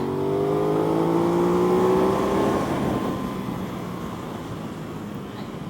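An Aprilia RS660 motorcycle engine runs at low revs on a race track, a steady close drone with rising and falling tonal lines that fades slightly toward the end.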